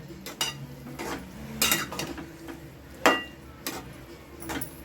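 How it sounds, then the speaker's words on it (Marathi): A spoon clinks and scrapes against a pan while grated bottle gourd is sautéed in ghee for dudhi halwa, the sharp taps coming irregularly over a faint low background. "हा किसलेला किस आहे ना, हा तुपामध्ये ना व्यवस्थित असा परतून घ्यायचा"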